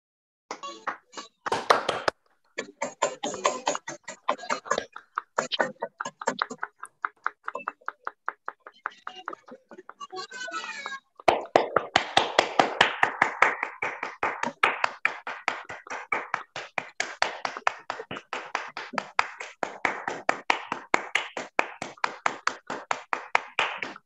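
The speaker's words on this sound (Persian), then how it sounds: "یک دقیقه همه با هم دست بزنیم" Online meeting audience for a religious-rights lecture applauding together, a dense, steady patter of many hands clapping through mixed connections, uneven early on, then fuller and louder, continuing rhythmically to the end.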